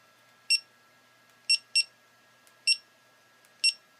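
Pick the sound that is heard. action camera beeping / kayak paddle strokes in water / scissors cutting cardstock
action camera beeping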